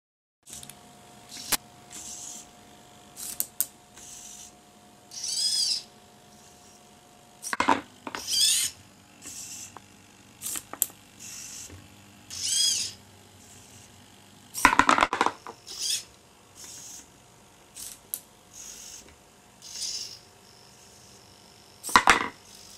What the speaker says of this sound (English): The first demonstration shows the robotic arm moving blocks to a container.